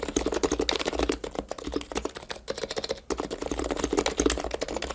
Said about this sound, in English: the sound of a mechanical keyboard can make it sound much better